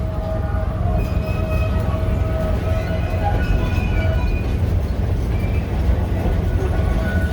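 A ride-on train at Jeeptoberfest rumbles steadily with a low continuous drone and faint tonal squeals, loud and close throughout the ride.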